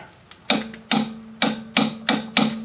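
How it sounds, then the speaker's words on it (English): Torque wrench ratcheting on a rear strut bolt of a 1999 Ford Contour: six sharp, close metallic clicks at a brisk, even pace, with nothing else audible. "I have my torque wrench set at 68"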